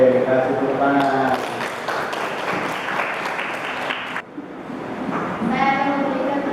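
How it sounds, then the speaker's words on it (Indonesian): A classroom group applauds another group's answer, a dense burst of clapping for several seconds that fades briefly, with voices talking before and after. "Oke, kasih tepuk tangan."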